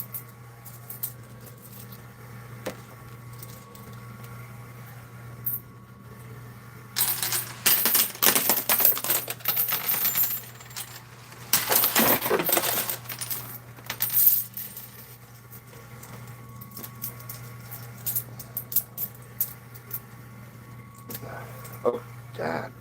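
Quarters clatter and cascade inside a coin pusher arcade machine, with bursts of tumbling metallic coin drops in two heavy waves and lighter scattered clinks between, over a steady machine hum.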